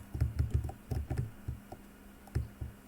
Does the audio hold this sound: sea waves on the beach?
no